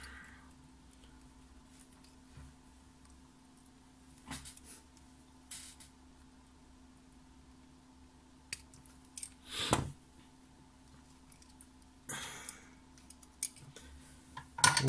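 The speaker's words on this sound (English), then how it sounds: "we'll cut the other end of the resistor down to size too" Small flush cutters clip a resistor lead during Game Boy repair work, a few sharp isolated snips and ticks amid quiet background with faint handling noises.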